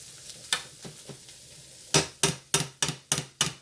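Canned corned beef sizzling in a frying pan under a steady low hiss, with a spoon stirring and scraping through it in sharp, close knocks that come sparse at first, then in a quicker regular run of about six strokes.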